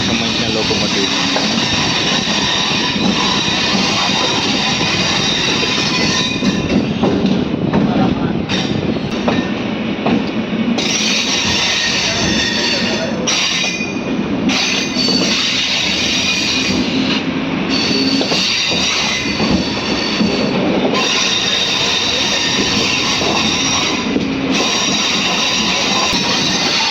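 A MEMU train runs on the Vijayawada-Bhadrachalam line, a loud continuous rumble of wheels and carriages with rattling and faint squeals, while someone talks over the noise throughout.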